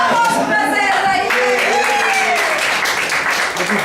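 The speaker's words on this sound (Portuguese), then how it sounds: "Dá um aplauso pra Zé aí" Classmates in a Portuguese Bible history lesson clap briefly for a student named Zé, mixed with voices talking and laughing over the clapping.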